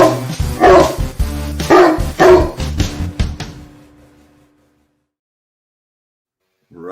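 A dog barks loudly several times in quick bursts, close up, then the barking fades away into silence.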